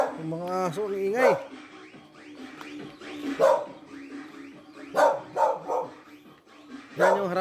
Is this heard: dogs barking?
yes